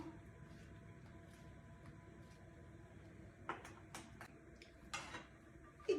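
A knife slices button mushrooms on a cutting board in a home kitchen, producing a scattering of faint, quiet taps and clicks, irregular and sparse, growing slightly more frequent toward the end.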